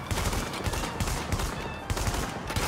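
Rapid sustained gunfire from a fast-firing weapon in the video game The Division, a dense loud continuous burst of shots with no pauses and no voice.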